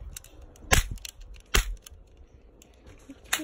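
Toy cap guns firing in play: two sharp, loud snapping cracks, a quieter pop and a final crack at the end, all close, spaced irregularly over faint handling noise, with no talking.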